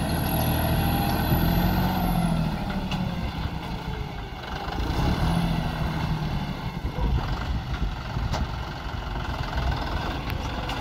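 A John Deere 5310 tractor's heavy diesel engine, fitted with a dozer, runs steadily throughout, a low continuous rumble with slight swells in load, close by and fairly loud.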